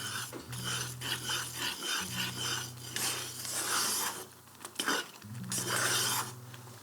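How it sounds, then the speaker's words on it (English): A whole lemon has its zest grated off, giving repeated rough rasping strokes that come close and fairly loud over a low steady hum, with no talking. "then we'll go the zest of 1 lemon"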